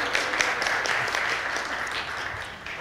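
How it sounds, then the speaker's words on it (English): Conference audience clapping for state officials, a dense, even patter of many hands sustained throughout at moderate loudness. "give them some applause"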